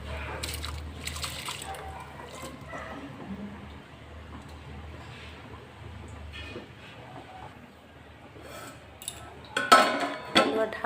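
Soaked rice goes into boiling water in a pot while cooking chicken biriyani: a soft bubbling background, then clattering and splashing near the end, close by.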